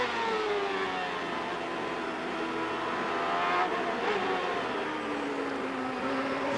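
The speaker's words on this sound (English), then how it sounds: "Enjoying the onboard view for a moment there from Gilles de Ferran's car" Onboard CART Indy-style race car at the 1998 Vancouver street race, its high-revving engine screaming steadily with pitch sweeps through gear changes, loud and continuous with no talk.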